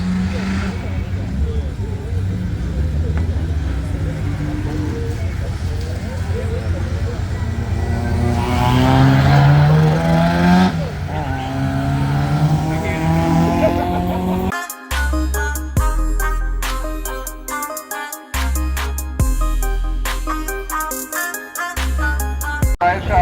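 A Honda race car with a Type R engine in a non-Type R chassis runs a Gridkhana head-to-head course, its engine loud and revving through quick shifts under a commentator's voice, with music taking over the second half.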